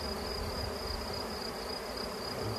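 A thick, constant hum of many honeybees swarming close around a recovered hive, unbroken and even in loudness throughout, with no voices.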